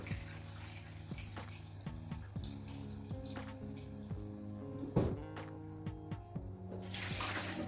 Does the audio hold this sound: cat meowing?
no